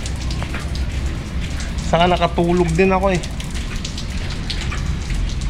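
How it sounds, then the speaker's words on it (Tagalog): Heavy rain pours in a steady, dense hiss, with a person briefly speaking over it partway through. "Grabe yung ulan kayo. Parang may bagyo."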